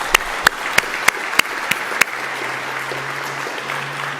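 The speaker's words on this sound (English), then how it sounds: "Let's give them a big round of applause." Applause breaks out for active duty service members and veterans at a policy event, a steady roomful of clapping with several sharp, louder claps standing out near the start and a low hum beneath.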